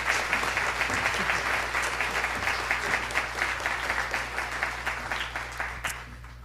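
An audience at the 2022 Golden Heart Awards ceremony breaks into a full round of applause, a dense, steady roar of many hands that holds throughout and tapers slightly at the end.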